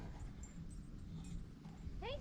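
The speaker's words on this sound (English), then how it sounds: "It's just an Alaskan sled dog." Alaskan sled dog at a remote gold camp gives a brief rising whimper near the end, faint over steady outdoor background noise and low rumble.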